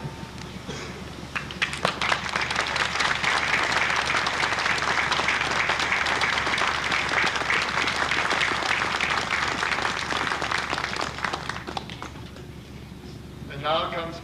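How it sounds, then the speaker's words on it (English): Faculty and staff at a 1990 Illinois Institute of Technology commencement stand and applaud graduates, a long, dense roll of clapping that swells, holds steady for several seconds, then thins out near the end. "I will now ask the faculty and staff of IIT stand and applaud all of those whose achievement we honor here today"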